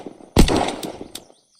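A single loud Determinator shotgun blast in the video game Unturned, with a sharp attack and a booming tail that fades over about a second, followed by silence.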